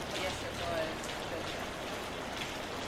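Rain pouring into an abandoned mansion through an unrepaired roof and down through the floors: a faint, steady wash of falling water and dripping throughout.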